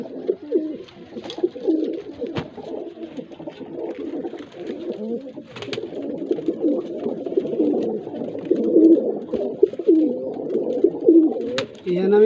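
Pigeons coo continuously in a loft, a low, throaty, rolling murmur from several birds close by, with a few sharp knocks in the background.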